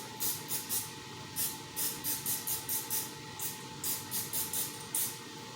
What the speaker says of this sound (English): we're going to go ahead and spray these down with olive oil spray